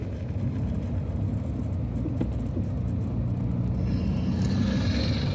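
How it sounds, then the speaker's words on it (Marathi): Morning traffic climbing the steep Ajanta ghat road makes a continuous, loud low rumble of engines with no break and no voices. "सकाळचे 7 वाजलेत आणि एवढी ट्रॅफिक म्हणजे साहजिक आहे."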